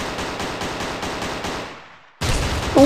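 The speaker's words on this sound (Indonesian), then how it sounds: "Kita tes shotgunnya seperti apa ya, guys ya" A shotgun fires repeatedly in an offline mobile FPS styled like CS:GO, giving loud evenly spaced blasts, then a brief pause before another shot.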